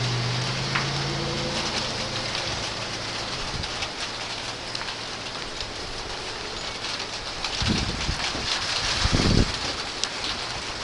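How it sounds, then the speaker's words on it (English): Rain falls steadily during a thunderstorm, a constant broad hiss of drops on surfaces, with a low rumble early on and a couple of heavier bursts of noise near the end. "Oh, because of the rain."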